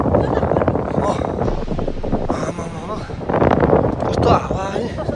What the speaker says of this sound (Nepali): कस्तो हावा है।